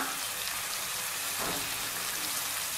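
Tomatoes with salt and mint sautéing in a pan for mutton curry, a steady close sizzle and crackle of frying that runs evenly throughout with no voice over it.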